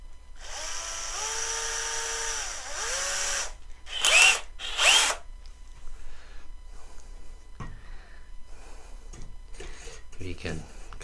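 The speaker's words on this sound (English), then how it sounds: "now we know where to drill, and we will start again with a small one" A power drill whines steadily for a few seconds while drilling a small pilot hole for a trebuchet, then winds down. Sharp bursts of handling noise follow, and faint tapping and rustling continue afterward.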